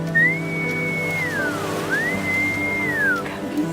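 A person whistles a single sustained tone that dips in pitch and rises again, steady and close, with faint water sloshing behind.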